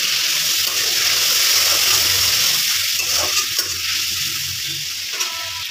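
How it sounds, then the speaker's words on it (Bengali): Tomatoes fry with turmeric and cumin in a pan, giving a steady close sizzle with some stirring scrapes throughout. "টমেটো ভাজা হয়ে গেছে এখানে কিছু মশলা না হলে হলুদ আর জিরা"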